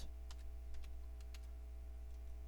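Keystrokes on a computer keyboard while entering a command during an MS-DOS 6.22 install in VirtualBox: sparse, separate clicks over about two and a half seconds, faint and close, with a steady low electrical hum underneath.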